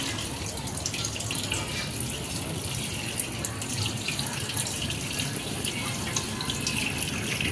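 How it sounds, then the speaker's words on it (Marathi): Pomfret fish washed under a running tap, a steady close rush of water with small splashes and drips continuing evenly throughout, no voices. "तर आता आपण पॉपलेट धुवून घेत आहे।"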